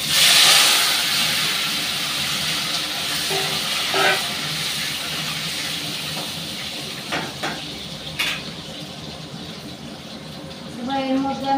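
Boiled small potatoes frying in hot oil with panch phoron, a loud steady sizzle that hisses strongest at first, with clinks and a voice talking over it.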